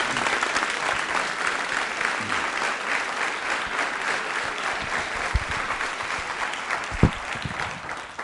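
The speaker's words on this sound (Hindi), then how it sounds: "तालियां बजाइए बीनू जी के लिए" A school audience at a quiz show applauds a contestant with sustained, dense clapping lasting several seconds, loud and even, with a few sharper claps standing out near the end.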